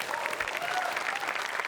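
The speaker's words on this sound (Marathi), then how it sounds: "एकदा जोरदार टाळ्या या बहारदार परफॉर्मन्ससाठी" A studio audience at a Marathi comedy show claps for a stage performance, giving dense, steady applause that holds at an even level from start to finish.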